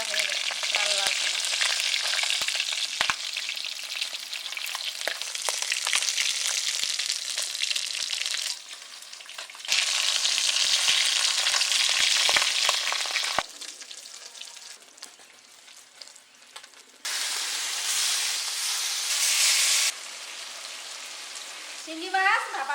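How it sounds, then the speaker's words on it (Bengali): Fish sizzles steadily in hot oil in a home kitchen pan, a loud continuous crackling hiss with shifts in intensity as pieces are moved, occasional sharp pops, and no talking. "দেখুন এই যে মাছ ভাজা হয়ে গেছে লাল লাল করে।"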